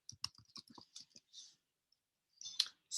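A word typed on a computer keyboard: a quick, quiet run of light key clicks, a short pause, then a few more taps.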